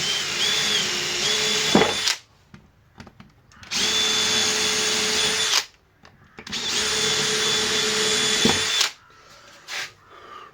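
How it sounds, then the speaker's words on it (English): An electric drill bores holes for 4mm screws in a router-table build, three long steady whining runs of about two seconds each, separated by near-silent pauses with faint handling noises. "I'll be using a 4mm drill"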